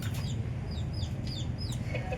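Several chickens cluck and chatter close by over a steady low rumble, with short squawks scattered throughout.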